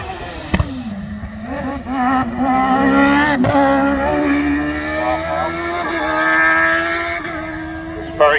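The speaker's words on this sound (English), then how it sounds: "driving a Formula Ford 1600" Formula Ford 1600 single-seater with a manual gearbox races up the Harewood hillclimb course, its engine loud and close, rising in pitch through sustained revs with brief breaks at gear changes.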